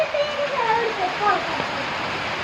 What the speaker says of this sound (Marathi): पाऊस किती छान पडायला लागलाय बघ बघ